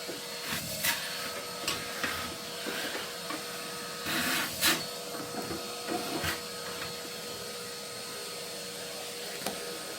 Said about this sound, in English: Bring the hoover up closer.